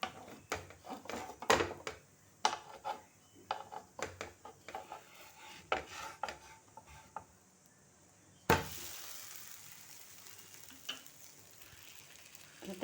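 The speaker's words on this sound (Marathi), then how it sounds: "तर ही आंबोळी मी आता परतून घेणार आहे." An amboli, a Konkan-style rice pancake, cooks on a pan: quiet spatula taps and scrapes come first, then a sudden loud burst of sizzling that settles into a steady close frying hiss.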